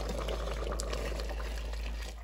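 Espagnole brown sauce thickened with roux bubbles at a steady boil in a pot, a continuous close simmering and popping hiss with no talk.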